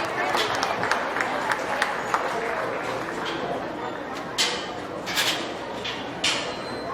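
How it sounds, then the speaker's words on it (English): Steady applause from a county fair swine show crowd for kids showing Hereford pigs, a dense continuous clatter of clapping with a few sharper knocks and bangs, under voices. "Give those kids a great big round of applause if he could"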